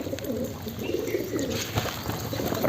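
Pigeon cooing outdoors while grain is scattered to lure it, a soft low repeated coo with some bird calls, fairly close over steady background noise and no talk.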